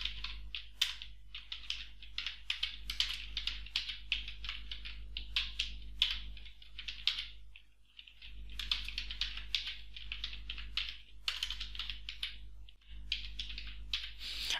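Subject names being typed into an Excel sheet on a computer keyboard: quick bursts of key clicks with brief pauses between words, close and fairly quiet over a low steady hum.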